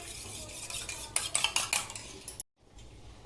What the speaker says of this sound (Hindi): अभी अंडे में काली मिर्च और नमक डालेंगे और अंडे को फेंटेंगे